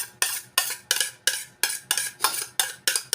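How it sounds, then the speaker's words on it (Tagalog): A utensil whisks beaten egg for pancake batter in a bowl, making about ten sharp, evenly spaced clinks against the bowl, close and loud with no talking. "Lalagyan lang po natin yung itlog dito, tapos hahaluin po natin."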